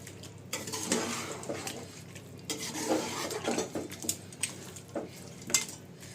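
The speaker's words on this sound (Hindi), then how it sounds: "इसके बाद हाई फ्लेम पे दही को अच्छी तरह से भून लीजिए" Yogurt stirred and fried in a pot over a high flame for Hyderabadi pakki akhni biryani, with steady scraping and clinking of a spoon against the metal pot and a faint sizzle, close and moderately loud, with no talk.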